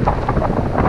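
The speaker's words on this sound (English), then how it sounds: "the wind's picking up here now out on the side of Lloyd's River." Steady wind blowing hard beside Lloyd's River in Newfoundland, a continuous broadband rush buffeting the microphone at a campsite, loud and close with no voices.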